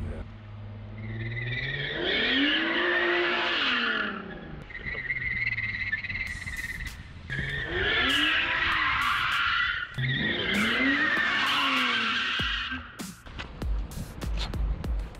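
A car being drifted on a drift training course screeches its tyres in long skidding wails while the engine revs rise and fall. There are three main passes, loud and close, with brief lulls and some knocking between them.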